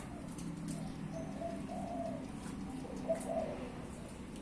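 A spotted dove coos softly a few times in the distance over a faint, quiet outdoor background in Thailand.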